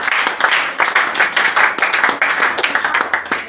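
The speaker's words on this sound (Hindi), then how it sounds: "तालियां बजाएंगे" Congregation at a church sermon claps together in quick, uneven bursts, loud and close, with a faint voice in the background.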